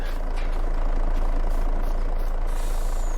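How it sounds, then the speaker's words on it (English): Several lorries idle in Farming Simulator 22, giving a loud, steady low diesel rumble with a brief air hiss toward the end. "I do love the fact we've got so many lorries here."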